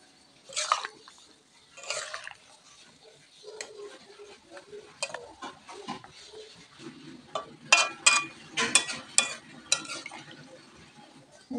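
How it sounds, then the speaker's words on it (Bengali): Duck meat curry stirred in a pan with ground spice, giving repeated scraping and clattering spoon strokes over a soft sizzle, with a quick burst of sharp knocks near the end. "এবার একটু নেড়ে দেব।"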